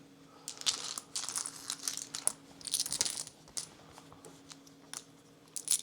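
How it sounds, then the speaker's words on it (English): Plastic game tokens from the board game Warp's Edge clatter and click as they are dropped back into a bag, a quiet, irregular run of small clacks and rattles, up close, with no talking. "we put all of our tokens back in the bag"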